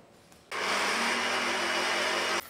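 A mixer grinder blends rava cake batter with coffee powder, starting abruptly with a loud, steady whirring roar that runs for about two seconds and then cuts off.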